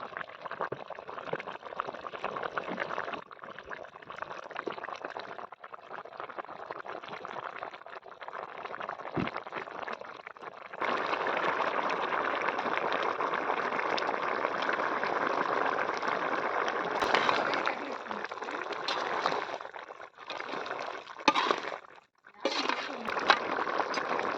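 Country chicken uppu kari simmering uncovered in a pot, a steady bubbling and hissing wash that grows denser and louder midway, with a few brief dips near the end.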